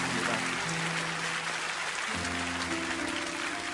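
A church congregation at an early-morning prayer service claps steadily in a large hall, an even, rain-like patter of many hands with a low hum underneath.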